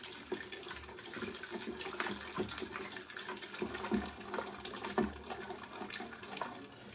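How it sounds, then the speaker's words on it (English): Guinness stout poured from a pint can into a hot pan to deglaze it during a corned beef and cabbage dinner, a steady liquid splashing and sizzling rush with scattered bubbling pops throughout. "we're going to start with 1 good pint can of Guinness. And that's to deglaze our pan."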